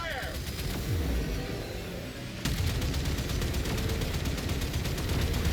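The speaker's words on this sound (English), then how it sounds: "Torpedoes. All bays. Fire." Torpedoes fired from all bays in Warframe, a burst of rapid booming game weapon fire after a sharp jolt, dense and loud over a constant rumble, with a voice talking briefly beforehand.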